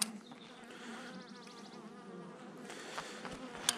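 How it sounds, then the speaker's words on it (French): Dense, steady buzzing of many bees swarming close around a beehive during queen work, a continuous drone with a few louder passes near the end. "Il y a pas mal d'abeilles, hein."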